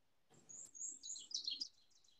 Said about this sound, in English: And the oven bird.